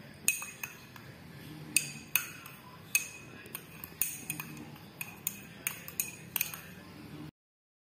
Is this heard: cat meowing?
no